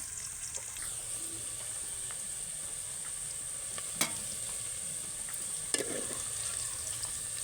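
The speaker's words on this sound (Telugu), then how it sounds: "ఉల్లిపాయలు బ్రౌన్ కలర్ వచ్చేదాకా వేసుకోవాలి ఫ్రెండ్స్" Onions frying in a pan for chicken biryani, a steady close sizzle with occasional clinks of the stirring spoon against the pan.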